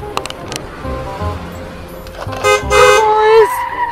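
A car horn toots a few times as the vehicle draws near in a forest, the blasts growing louder over a low motor hum and some earlier rustling.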